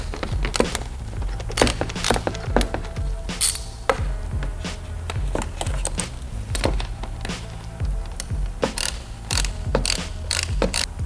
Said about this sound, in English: we're going to loosen those using a 7mm socket